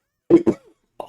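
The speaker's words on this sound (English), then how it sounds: "Oh man, I hate this cough." A man with a cold gives two quick, close coughs in a row, followed a moment later by a shorter, softer cough.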